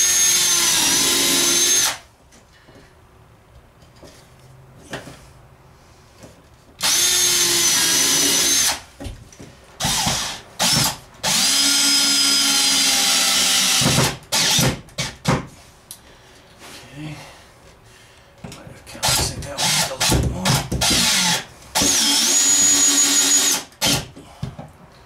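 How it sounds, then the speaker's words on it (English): A power drill bores holes into the bottom of a wooden cabinet being built above the kitchenette of a DIY travel trailer, with several loud bursts of drilling separated by pauses, handling knocks and brief talk. "we'll go ahead and drill a couple of holes here at the bottom"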